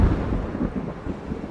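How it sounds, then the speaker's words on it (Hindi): Thunder rolls from storm clouds on a windy night, a low continuous rumble swelling and fading in soft waves, close and heavy with no other voices present. "बादल भी गरज रहे"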